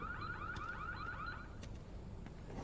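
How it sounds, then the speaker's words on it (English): In the Need for Speed Unbound video game, a car alarm goes off inside a garage shop, a rapid series of repeating rising chirps followed by fainter electronic tones, fairly quiet and with no talking. "you triggered the alarm system"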